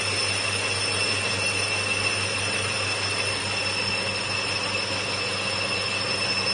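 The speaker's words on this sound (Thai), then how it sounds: "วันนี้เอามาให้ดู การคว้านลูกสูบนะครับ" A lathe bores out a long piston cylinder sleeve, a steady loud grinding hum with high whining tones, continuous and unchanging throughout.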